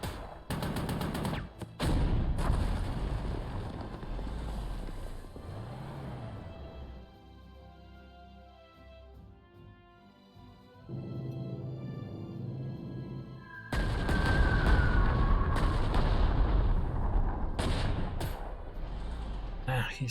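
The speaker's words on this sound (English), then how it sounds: "Now our anti-tank gun." Anti-tank gun firing in the World War II strategy game Panzer Corps 2, Wehrmacht campaign near Kiev: loud game combat with gunfire blasts and heavy thumps over a music bed, a quieter lull midway, then renewed loud firing.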